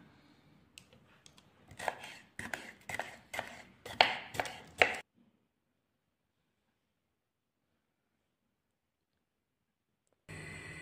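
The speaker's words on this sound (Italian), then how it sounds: "Pulite i peperoni e tagliateli." Bell peppers are chopped with a knife on a board in a brisk series of sharp, close chops over about five seconds, followed by silence and then a brief burst of other noise near the end.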